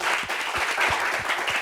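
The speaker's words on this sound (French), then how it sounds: "Applaudissements pour nous" A studio audience applauds, dense steady clapping from a crowd held at an even level throughout, no one speaking over it.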